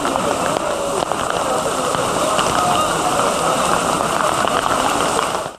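A heavy sudden downpour in Istanbul pours steadily in a dense, constant hiss of rain hitting surfaces, loud and unbroken, with scattered sharper drops and a faint background rumble.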